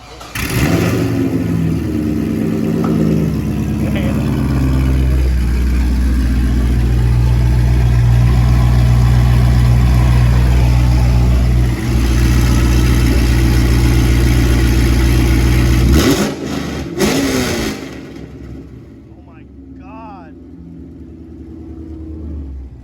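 A Chevrolet Corvette C5 fitted with headers fires up after a jump-start and is revved. Its loud engine growls and swells for about sixteen seconds, then cuts off, leaving quieter background noise.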